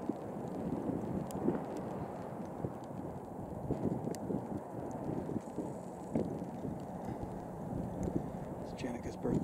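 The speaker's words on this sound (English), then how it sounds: "We're set up here in the wind, cold rain." Outdoor wind buffeting the microphone during a mule deer hunt in cold rain, a steady low rumbling roar with scattered patters, fairly close and continuous, while people talk quietly underneath.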